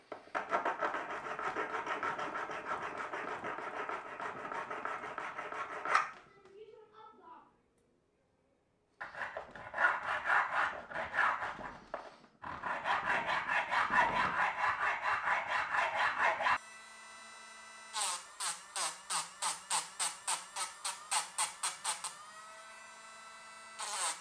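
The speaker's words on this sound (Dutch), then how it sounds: "Ga ik hem eerst helemaal bij veilen. En dan als laatste ga ik pas die blok eraf halen." Hand filing of a cast silver Thor's hammer pendant made from melted-down old silver, heard as close rasping and scraping strokes in bursts, followed by a quick, regular run of short file strokes with pauses between sections.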